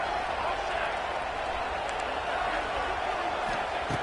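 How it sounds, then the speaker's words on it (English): A video game football stadium crowd roars in a steady, dense wash of cheering near the goal line, with a voice talking over it. "The crowd really making some noise now"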